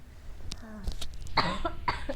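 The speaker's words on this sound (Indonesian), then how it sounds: "Tiba-tiba batuk ya." A person coughs several times in quick succession indoors, close and fairly loud, with a short throat-clearing rasp between the bursts.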